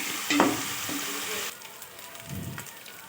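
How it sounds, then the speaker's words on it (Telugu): Ginger paste fries in a pan as a spoon stirs it, giving a crackling sizzle with a few scrapes early on, then a quieter simmering hiss after a second and a half. "అల్లం పేస్ట్ ఒక స్పూన్ వేసుకొని బాగా కలుపుకోవాలి."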